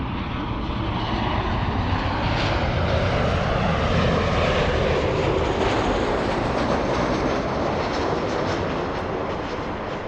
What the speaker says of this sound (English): United Airlines 387 flying in from Vancouver. That's a 737-900.